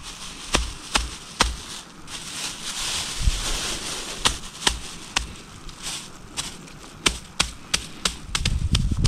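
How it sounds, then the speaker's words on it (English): A rock strikes hazelnuts inside a crinkling plastic bag, sharp knocks at uneven intervals, close up, with rustling between hits. "crush up these hazelnuts is to put it in this plastic bag and just hit it with like a rock"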